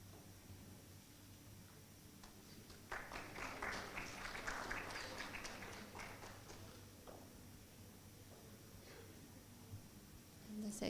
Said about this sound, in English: Please give applause to all of our speakers today.